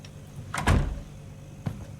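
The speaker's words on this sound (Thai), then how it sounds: "เราปิดประตูก่อน" In a horror video game, a door swings shut with a sliding rush that ends in a solid thud, followed a second later by a lighter knock, heard close with no voices.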